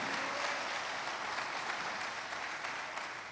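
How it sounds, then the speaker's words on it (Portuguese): A church congregation applauds during a sermon, a continuous wash of many hands clapping at once, even and moderately distant, with no voices rising above it. "Uma salva de palmas para Jesus."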